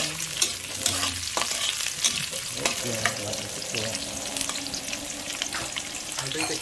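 Onions sizzle in hot oil in a pan for mongo beans, with steady frying hiss, repeated stirring clatter and scrapes, and faint voices in the background.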